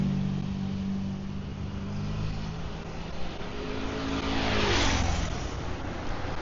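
A tuk-tuk drives past on a Phuket street with a droning engine. The pitch climbs and then falls as it passes close by over steady street noise.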